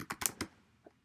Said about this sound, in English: I'm not typing well.